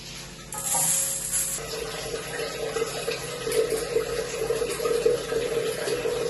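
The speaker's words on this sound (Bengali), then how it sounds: "ডালটা ভালো করে ধুয়ে দিচ্ছি।" Water runs from a tap over mung dal lentils being washed in a kitchen, a steady splashing flow that brightens briefly near the start, then continues with soft sloshing and no voices.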